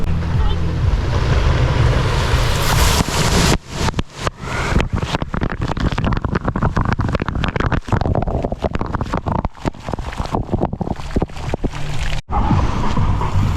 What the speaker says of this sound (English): that monkey head is filled with water and then it tips.